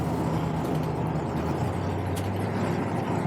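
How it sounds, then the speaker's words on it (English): A 1956 Chevy 3100 pickup truck cruises down a freeway, giving a steady low engine drone and road rumble that holds at an even level throughout, with no talking. "I'll take the 56 Chevy out on the freeway for you so you can see it going down the road."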